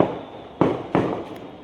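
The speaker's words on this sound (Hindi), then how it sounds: "बहुत ज़्यादा आवाज़ हो रही है पटाखों की।" Firecrackers bursting outdoors for the Dev Deepavali celebration, two loud cracking bangs in quick succession heard from indoors, with no voices.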